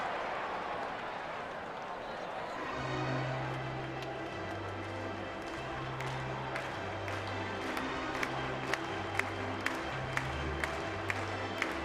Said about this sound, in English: Another sold-out crowd tonight here at PNC Park in Pittsburgh